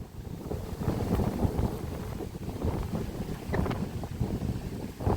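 Strong dry wind blows steadily across an open rural area while villagers build a new road, a continuous blustery roar with gusts and buffeting against the microphone.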